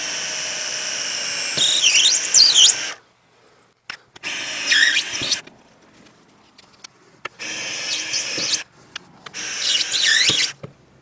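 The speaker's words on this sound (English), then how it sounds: "I'm now going to drill some more holes" A power drill bores holes in a clamped workpiece on a Parf Guide cutting station, four separate bursts of high whining and squealing each lasting a second or two, with quiet pauses between them.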